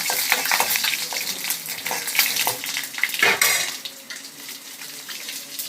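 Green and dried chillies with fenugreek seeds splutter and sizzle in hot oil in a pan, a loud crackling hiss with stirring clinks, easing toward the end.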